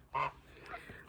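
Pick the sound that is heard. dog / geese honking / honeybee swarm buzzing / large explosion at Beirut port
geese honking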